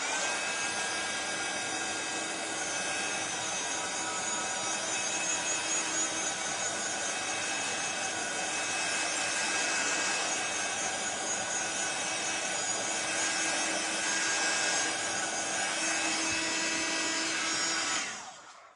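A heat tool drying fresh paint on a papercraft project gives a loud, steady whirring hiss that runs unbroken for about eighteen seconds and then cuts off abruptly.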